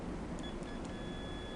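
A multimeter set to continuity test mode gives a few faint chirps, then a thin, steady beep that holds against background hiss.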